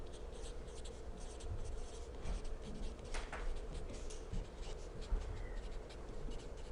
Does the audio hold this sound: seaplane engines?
no